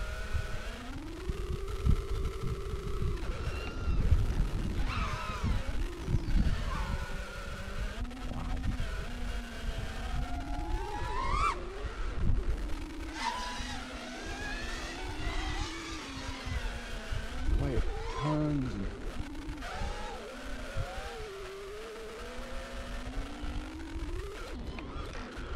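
Nazgul FPV drone flying fast, its motors whining and sweeping up and down in pitch as it punches and turns, loud and continuous throughout.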